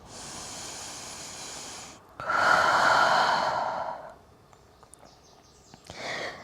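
Deep breathing during a neck stretch: a long, steady inhale, a brief pause, then a louder, breathy exhale of about two seconds, followed by a quieter breath near the end, all close and alone.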